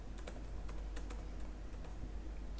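Quick bursts of typing on a computer keyboard while writing JavaScript code, soft close key clicks in an uneven rhythm over a low steady hum.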